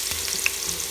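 Garlic fries in hot cooking oil at the start of a chicken kaldereta, a close continuous sizzle with a light stirring clink partway through and no talking.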